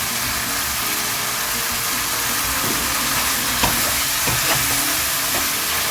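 Pork stir-fries in a pan with chili powder, a loud, steady close-up sizzle and hiss with a few soft scraping stirs throughout.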